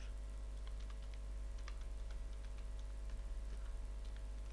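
Computer keyboard typing a username, a quick run of faint light key clicks under a steady low electrical hum, very quiet and close, with no voice.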